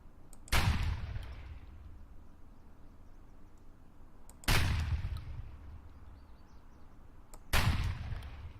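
Three loud, sharp shotgun blasts fired in the video game Escape from Tarkov, spaced a few seconds apart, each with a booming decay over a quiet background.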